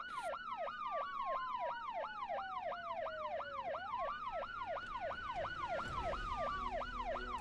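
Rapid, loud yelping siren in the zombie survival game Project Zomboid, a fast repeating whoop sweeping up and down without pause, with a second siren tone gliding beneath it and a low thud near the end.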